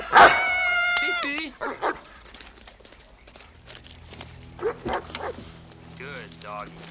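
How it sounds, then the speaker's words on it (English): Small dog yipping and barking in a comedy scene, a burst of high excited yaps near the start and again near the end, mixed with people talking. "I hope Fifi didn't startle you."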